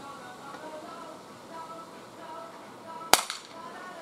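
A Bersa BP9CC blowback BB pistol fires a single sharp, loud shot outdoors on a blustery day, ringing out over steady wind noise with a brief decaying tail.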